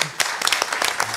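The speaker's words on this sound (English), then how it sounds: "An applause." Audience applause at a panel event on climate change leadership, a short burst of clapping from a crowd at moderate level.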